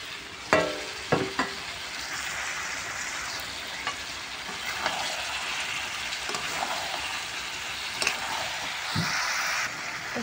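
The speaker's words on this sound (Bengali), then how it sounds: "তো মাশরুম, মশলা আর মটর কিন্তু ভালো করে কষায় নিচ্ছি।" Potato, cauliflower, mushroom, peas and spices sautéing in a pan, giving a steady close sizzle and hiss throughout, broken by a few clicks and scrapes of a stirring spatula.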